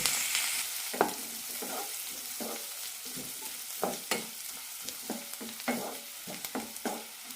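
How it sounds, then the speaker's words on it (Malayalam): Sliced onions and small shallots sautéing in a pan for puli curry, with a steady broadband sizzle broken by repeated scraping stirs of a spatula every second or so, close and moderately loud, no voices. "സവാള ഒരു കണ്ണാടി പരുവത്തിലേക്ക് എത്തണം അതുവരെ വഴറ്റാം"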